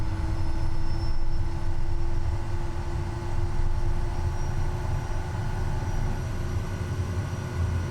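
A propeller aircraft taxis in Microsoft Flight Simulator 2024, its engine giving a steady, continuous droning hum with a low rumble and faint tonal whine, unchanging and fairly loud throughout.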